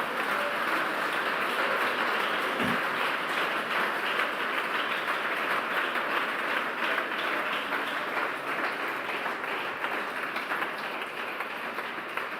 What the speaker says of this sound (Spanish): Fuerte ese aplauso para el que vive